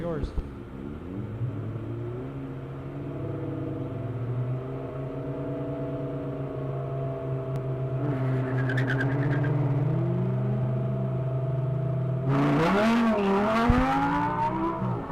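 Autocross start line with a Mazdaspeed Miata and an Audi R8 idling and revving, a steady engine hum rising in pitch near the end with a sharper burst of acceleration, while an announcer talks throughout.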